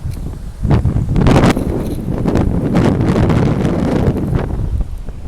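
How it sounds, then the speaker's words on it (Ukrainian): Strong wind buffeting the microphone in loud, continuous roaring gusts, close and rough throughout. "Дуже, дуже вітряно."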